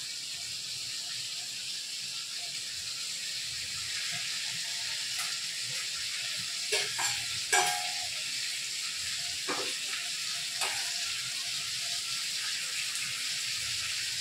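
Fried vegetables, including potato, drumstick and eggplant, sizzle in butter in a pan. A steady soft hiss runs throughout, with a few scraping stirs and clinks near the middle.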